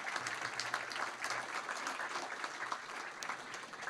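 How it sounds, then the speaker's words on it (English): Audience applause for visiting professors at a university lecture, a continuous patter of many hands clapping, moderately distant and fairly quiet, steady for several seconds. "Can we give them a round of applause"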